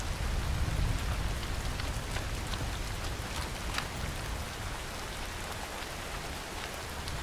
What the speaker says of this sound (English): Some heavy fucking rain.